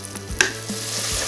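Gluten-free Cheetos mozzarella squares fry in hot oil with a close, steady sizzling hiss, punctuated by one brief sharp pop early on.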